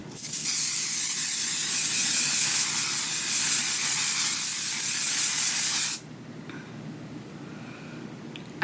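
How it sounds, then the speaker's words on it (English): A fine aerosol of Juvia's Place matte makeup setting spray hisses continuously for several seconds, close and fairly loud, then cuts off abruptly, leaving quiet room noise. "I'm gonna go in with this Juvia's Place setting spray to keep your"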